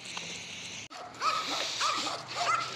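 Several neighborhood dogs bark and yip along a walk, the barks coming in short repeated bursts over steady outdoor background noise at moderate distance.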